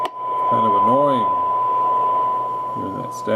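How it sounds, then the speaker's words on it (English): A CB radio hisses with steady static during alignment, joined by a constant electronic tone and brief warbling sweeps, loud and close. "hearing that static."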